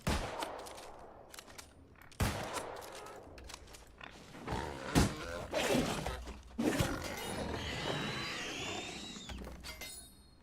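Gunfire aimed at a pig in the fantasy MMO New World, several sharp bursts of shots scattered across the span, with creaking and rumbling game noise between them.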